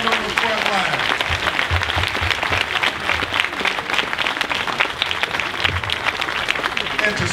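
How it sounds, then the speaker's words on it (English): Audience applause at a justice rally at Southern University, sustained and loud, a dense crowd clapping steadily throughout, with occasional voices faintly mixed underneath. "y'all give them a round of applause for fighting on the front line"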